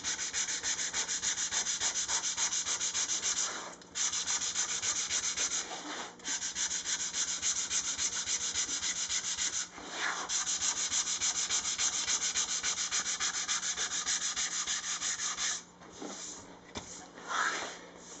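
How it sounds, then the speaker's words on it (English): Steady, continuous hand sanding to shape a wooden Les Paul guitar body, a rough rubbing scrape with a few brief pauses, close and loud with no talking. "The idea here is more for shaping than final sanding."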